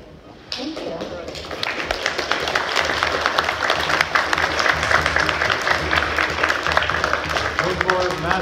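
Audience applause breaks out at a steampunk convention fashion show, starting abruptly and building into loud, dense clapping with cheers mixed in, while voices carry underneath.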